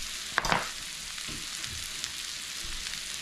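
Potatoes, kielbasa and bell peppers sizzle steadily in a frying pan, with a brief louder scrape and clatter early on as the food is flipped, then a constant hiss.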